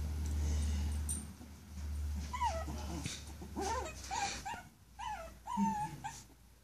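A shih-tzu poochon puppy whines and whimpers in repeated short, high rising cries at close range, indoors, broken by brief pauses, with some low background noise.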